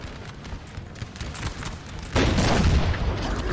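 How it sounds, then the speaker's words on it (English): Horse artillery firing canister shot at French troops in Napoleon Total War, a scattered crackle of distant booms that swells into a dense, loud roaring volley midway, with no talking. "Oh, horse artillery. Oh, no, horse artillery."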